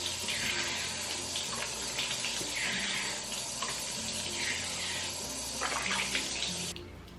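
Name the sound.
water running from tap while brushing teeth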